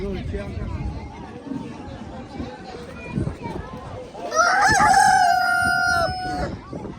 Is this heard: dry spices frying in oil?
no